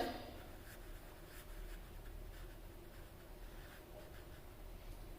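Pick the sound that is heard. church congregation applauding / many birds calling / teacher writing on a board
teacher writing on a board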